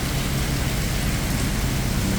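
Heavy rain pours down during a storm in Kanchanaburi, Thailand, a dense, constant roar of drops hitting surfaces, loud and close throughout.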